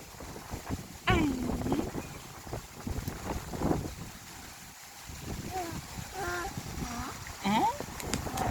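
Strong wind buffeting outdoors, a continuous rough rushing roar with gusty swells, heard up close under scattered voices and a child's vocal sounds.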